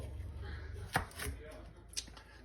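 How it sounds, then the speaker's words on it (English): Knife chopping carrots on a cutting board while finely dicing them for pea soup, giving a few separate, fairly faint cuts over a low background hum. "and do our chopping. Chop, chop, chop, chop, chop, chop."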